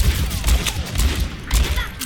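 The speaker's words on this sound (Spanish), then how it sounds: "Ha habido una explosión de diva." Overwatch match with D.Va's self-destruct going off amid combat: a couple of sharp, loud blasting bursts over rapid crackling gunfire and game noise, close and busy.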